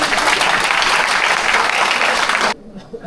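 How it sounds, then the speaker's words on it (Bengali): An audience at a Suzuki motorcycle customer meetup claps loudly in a dense, steady burst for about two and a half seconds before it cuts off sharply. "বিসমিল্লাহ মোটরস নওগাঁর জন্য একটা হাততালি হয়ে যাক"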